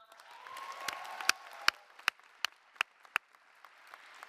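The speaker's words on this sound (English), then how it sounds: "Round of applause for John" Faint applause at a university achievement ceremony honoring a Black Resource Center director, a soft crowd patter with several sharp, distinct individual claps standing out at regular intervals.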